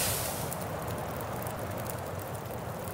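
Steady, loud roar of wind in the snowy survival game The Long Dark, a continuous broadband gust that fills the whole stretch without pause or voices.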